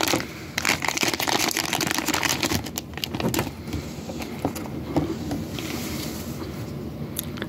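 Packaging of an unlicensed Star Wars toy being ripped open: dense rustling, crinkling and tearing of plastic and cardboard, close and continuous, with sharper rips near the start.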